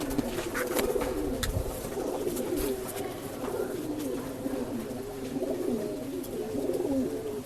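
Rekdhar pigeons coo continuously in low, throaty, overlapping calls, close by and steady throughout, with faint rustling underneath.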